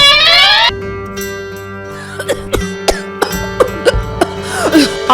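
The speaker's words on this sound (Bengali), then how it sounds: "আহারে, কাশিটা বড্ড বেড়েছে।" A queen with a cold coughs repeatedly in short, harsh bursts, loud and close, over a soft musical background in a cartoon scene.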